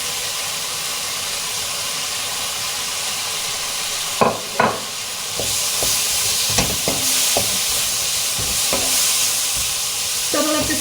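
Steady sizzling and crackling of chicken and peppers stir-frying in a hot pan for chow mein, with scraping stirs and clatters from a utensil partway through.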